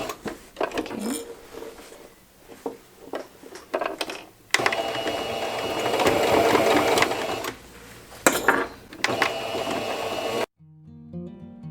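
A domestic sewing machine stitches fabric in short bursts of rapid mechanical whirring, then one longer steady run, loud and close, with brief pauses between stops.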